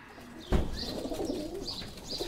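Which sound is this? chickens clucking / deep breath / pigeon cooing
pigeon cooing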